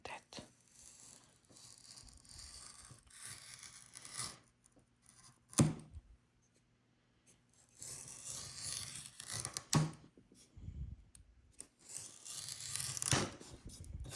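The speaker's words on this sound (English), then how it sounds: "I make violin only using my X-Acto knife, so no excuses. If I can do it, you can do it. And then I just cut like that." An X-Acto knife slices through a spruce bass bar for a violin in short, quiet scraping and crackling strokes separated by near-silent pauses, with no talking.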